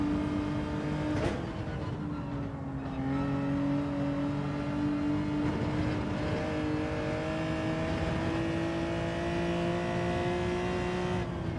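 A Ferrari race car engine in Gran Turismo 7 holds a steady, high, droning note at speed with slight rises and dips, loud and close, with other cars faintly audible behind it.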